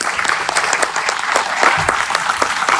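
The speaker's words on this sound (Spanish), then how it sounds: "vamos a darle un aplauso a estos servidores" A church congregation at a Spanish-language sermon claps for its servers, a steady, dense round of applause with crisp individual hand claps scattered through it, fairly loud and close.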